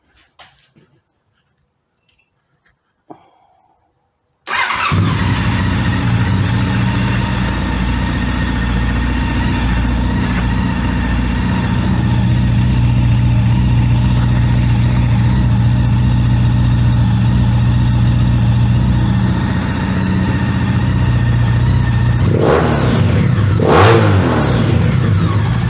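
After a few quiet clicks, an engine fitted with a shortened Delkevic exhaust cranks and fires into a loud, steady idle, holds a throaty drone, then rises in a sharp rev near the end before settling.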